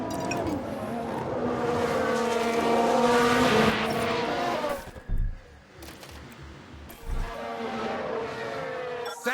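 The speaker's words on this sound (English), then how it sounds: "Sounds like there's been a crash." A race car slamming into the wall in the F1 Manager 2022 racing game, with a sustained engine drone abruptly cut by a sharp impact burst, then scattered thuds and a low rumble before engine noise resumes.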